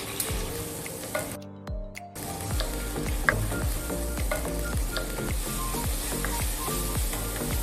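Ginger garlic paste sizzles steadily in hot oil for Mumbai vada pav, a dense close crackle with a short pause near the start, then continuous popping and frying.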